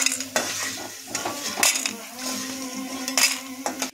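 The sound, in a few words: bori lentil dumplings frying and being stirred in pan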